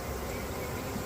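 A honeybee swarm fans at a hive entrance, making a dense, steady buzzing hum that stays close and even the whole time.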